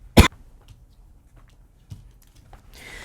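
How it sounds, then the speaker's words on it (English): One sharp, loud cough close to the microphone, followed by quiet small noises and a soft hiss at the end, with no speech. "I was just not going to stop coughing"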